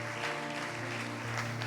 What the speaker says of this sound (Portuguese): você aplaude ao Senhor por eles